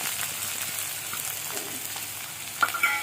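Finely chopped garlic, green chili and onion fry in a pan with a soft, steady hiss and a few small pops toward the end.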